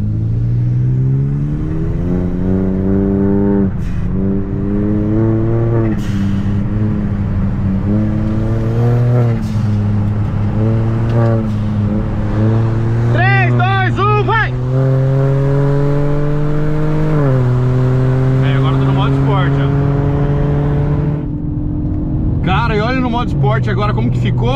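A Stage 3 Hyundai HB20 TGDI turbo pulls hard in third gear from a rolling 80 while racing a Ford Fusion 2.0 turbo. Heard from inside the cabin, the engine drone climbs steadily in pitch with brief shift dips, under occasional talk.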